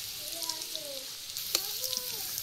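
Steady sizzling of potatoes frying in oil, a soft continuous hiss with a brief clatter midway and faint murmuring voices in the background.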